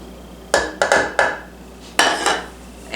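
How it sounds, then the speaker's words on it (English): A spoon scrapes and knocks against a pan while mixing sugar, cocoa and salt for fudge, making several sharp metallic clinks in quick uneven bursts, close and fairly loud against a quiet room. "I'm going to stir this right now with this type of spoon."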